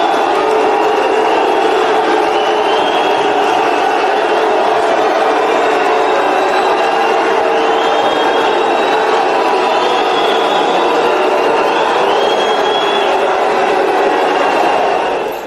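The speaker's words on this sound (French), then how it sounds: "c'est par une salve d'applaudissements que le grand public a réagi à son appel nominal." A packed National Assembly crowd applauds and cheers for newly elected deputy Augustin Kabuya, a dense, loud, unbroken roar of clapping and voices that holds steady for the whole stretch.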